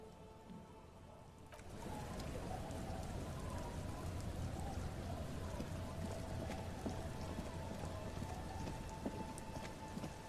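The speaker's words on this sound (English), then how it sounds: "It's getting late, and it's raining." Steady rain falls in Disco Elysium, a soft continuous hiss that starts abruptly after a quiet moment and then holds evenly, faint and enveloping with no voices.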